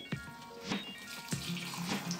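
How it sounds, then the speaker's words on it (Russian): Hot water runs and splashes steadily into a pot of rice, with a few sharper clinks and gurgles standing out along the way. "Лучше горячей воды сразу добавить и будем его томить на медленном огне."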